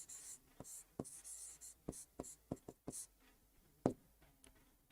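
Pen or marker strokes on a writing surface during an HTML lesson, quiet irregular taps and short scratchy strokes in uneven bursts, with room noise around them.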